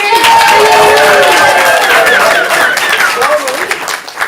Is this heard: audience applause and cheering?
yes